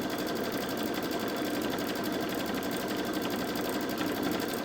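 A Babylock Solaris 3 sewing machine darns with a buttonhole foot, its needle running in a fast, even, continuous whir up close with no talking.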